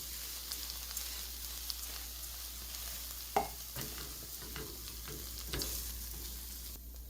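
Onions and ginger softening in a pan for a fall risotto, a quiet steady sizzle with occasional spoon scrapes and a sharper knock partway through, close with no voices.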